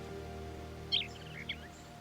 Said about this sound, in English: A real live bird.